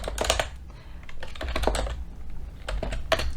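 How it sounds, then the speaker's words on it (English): Close, fairly loud typing on a computer keyboard comes in clustered bursts of keystrokes with short gaps, over a low background hum. "I can never type when people are watching."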